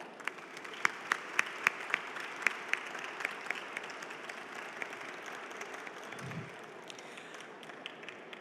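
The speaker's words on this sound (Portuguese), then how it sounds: "peço que saúdem com uma calorosa salva de palmas" A press conference audience at Brazil Windpower 2023 gives polite applause, a soft and distant patter of clapping with a few sharper claps standing out, steady over several seconds.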